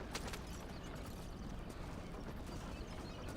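Horse hooves clip-clop in a video game, a continuous dense patter under a noisy, steady game soundscape, moderately loud throughout.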